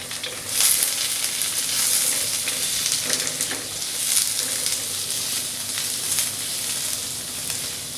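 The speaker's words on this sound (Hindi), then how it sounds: "दोनों चीज़ों को हमें अच्छी तरह से सौटे करना है, बस आधी से 1 मिनट।" Chopped garlic and white parts of spring onion sauté in a hot pan for egg fried rice, giving a steady close sizzle with occasional brighter crackles and a few faint scrapes of stirring, no voices.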